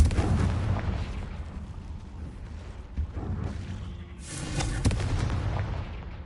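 Bursts of fiery blasts and crackling booms from the Confringo spell in the game Hogwarts Legacy, a dense, loud rumble that swells again near the end with no speech.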